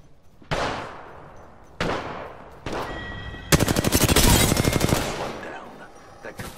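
Video game gunfire: three separate loud shots spaced about a second apart, then a sharp rapid-fire automatic burst lasting over a second, fading into quieter ambience.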